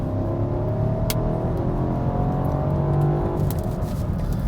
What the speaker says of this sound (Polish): Spontaniczność tego silnika, to jak on się wkręca na obroty